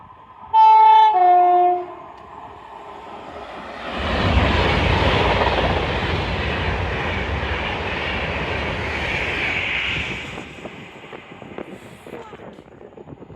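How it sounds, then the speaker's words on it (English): A Pendolino train passes through Watford Junction station: a two-tone horn sounds first, then a loud, sustained rushing roar builds and runs for several seconds before fading to a rattling tail. "And it's a Pendolino."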